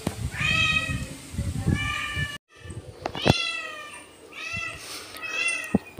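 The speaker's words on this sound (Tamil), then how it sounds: "பூனைக்குட்டி பார்த்திங்கன்னா நம்ம ஏரியாவில் வந்து ஒரு 3 பூனைக்குட்டி இருக்குது" A cat meows loudly and close by, one of a few local cats including a kitten, giving several drawn-out meows in two bursts separated by a short gap, with a few faint clicks and knocks around them.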